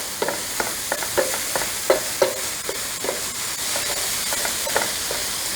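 Ground beef and seasonings, salt among them, stirred in a pan: rhythmic spoon scrapes and taps over a steady sizzling hiss, close and fairly loud, with no one speaking.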